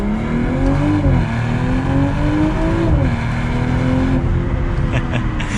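A 2022 BMW M440i Gran Coupe xDrive accelerates in manual mode, its engine note climbing steadily and dipping briefly at each gear change, loud and close throughout with no talking.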